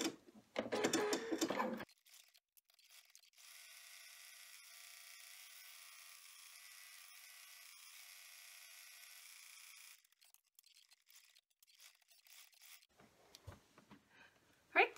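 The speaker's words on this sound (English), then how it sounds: "we are going to run the final stitching to keep it all together" An embroidery machine runs its final stitching pass, a steady faint mechanical whir with rapid needle clatter lasting several seconds, bracketed by quiet handling noises and brief louder bumps at the start and end.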